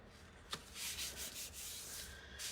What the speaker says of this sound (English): I'm going to fold that in half.